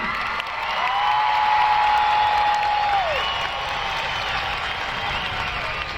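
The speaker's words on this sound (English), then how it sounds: "A round of applause for the class of" Applause and cheering from a crowd at a class of 2022 high school commencement, a steady wash of clapping with scattered whoops, while a long tone and a few faint tonal sounds ring over it.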